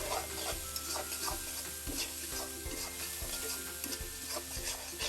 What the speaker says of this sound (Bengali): নিয়ে ভালো মতো করে নাড়াচাড়া দিচ্ছি দেখো ভাজা ভাজা করছি